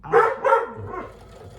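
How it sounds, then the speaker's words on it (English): Dog barking in two loud, close bursts, then trailing off into quieter yips and whimpers, heard alone with no talking. "I apologize for the dog"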